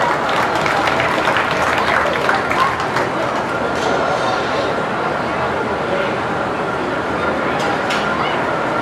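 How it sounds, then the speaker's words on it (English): Audience applause at a county fair beef show, a dense, steady clatter of many hands clapping that holds for several seconds, with some crowd noise mixed in. "Let's give these exhibitors a round of applause."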